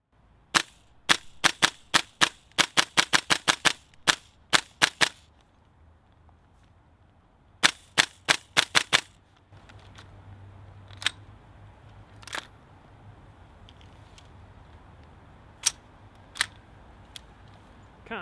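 A Tokyo Marui M4 MWS gas blowback airsoft rifle fires in snow, sharp cracking shots coming in rapid strings and single pops, loud and close, then sparser isolated shots over a low background rumble.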